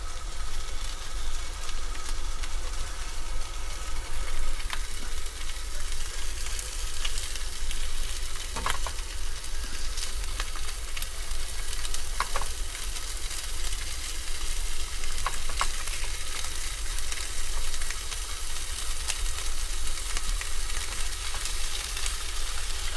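Sujuk sausage fries in a pan with a steady, dense sizzle that holds for a long stretch, close and continuous, broken by a few faint clinks.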